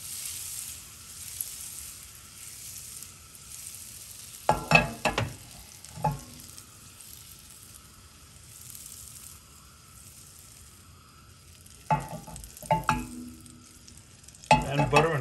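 Butter and a little oil heating in a pan for potato rösti; a quiet, low hiss is broken by a few short clusters of sizzling and clattering as the pan is swirled.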